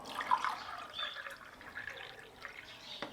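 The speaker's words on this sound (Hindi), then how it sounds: "इसलिए हम इसमें 2 कप पानी डालेंगे" Water pours and drips into a pot for ginger tea, a light, splashy trickle that stays fairly faint and steady over about three seconds, with no talking.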